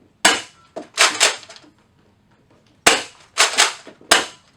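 A Nerf Rival Apollo blaster fires close up: sharp, snappy clacks come in two quick bursts of several shots each, separated by a short silent pause.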